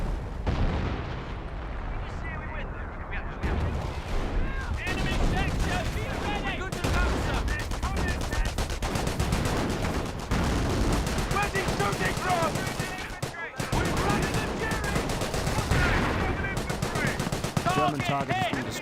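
Sniper and other gunfire in the Company of Heroes video game: a dense, continuous battle mix of rapid shots, bursts and booms, loud and sustained, with a brief dip partway through.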